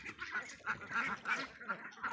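Green-headed Nakhon Pathom ducks quacking in a series of close, nasal calls with short gaps between them, heard alone.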